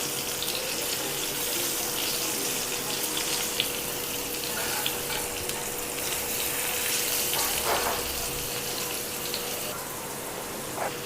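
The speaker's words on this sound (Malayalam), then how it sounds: "പൈനാപ്പിളെല്ലാം ഫ്രൈ ആയിട്ടുണ്ട്" Pineapple pieces fry in hot oil with a continuous close hiss and crackle, a steady dense sizzle holding throughout with no talking.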